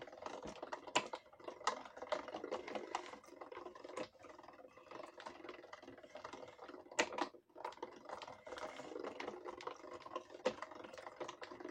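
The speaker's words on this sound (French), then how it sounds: "Et là, vous allez passer plusieurs fois afin que ça se coupe bien." A blade drawn repeatedly across thick paper while cutting a window into a handmade card, a run of quick, close scraping and tapping strokes with short pauses between passes.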